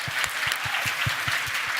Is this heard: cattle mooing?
no